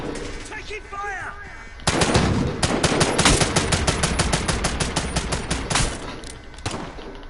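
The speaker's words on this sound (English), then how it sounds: "Taking fire." Rapid video-game gunfire in a shooter with a Juggernaut enemy, dense bursts of automatic fire and sharp repeated shots, loud and close after a quieter opening with faint voice-like chatter.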